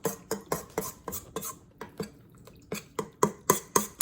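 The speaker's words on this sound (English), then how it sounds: "So now, just have to mix everything up." Deep dish pizza dough ingredients, including oil, get stirred in a bowl with a utensil, producing a quick, regular series of scraping clinks, close and alone with no talking.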